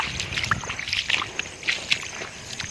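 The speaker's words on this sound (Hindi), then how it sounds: "चल थोड़ा बहुत तो धो ली मोर चप्पल।" Water sloshing and splashing as sandals are washed outdoors in muddy rainy-season ground, a series of short wet splashes and drips heard close up, with no talking.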